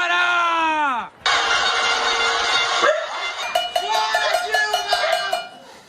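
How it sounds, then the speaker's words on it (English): Pot-banging protest in Brazil, with a held, descending wail breaking off into a wash of noise, then a string of sharp metallic clanks ringing out in an uneven rhythm amid shouting and street clamor. "Her critics had organized a kind of pot-banging protest"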